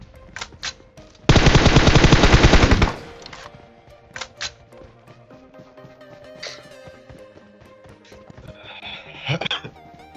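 UZI and M416 fire in PUBG on the Sanhok map: a few single shots, then one loud sustained automatic burst of about a second and a half, followed by scattered softer shots and game sounds.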